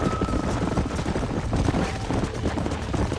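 Hooves of several horses gallop in Red Dead Redemption, a steady rumbling clatter with rapid repeated beats at moderate distance, under a continuous wash of ambient noise.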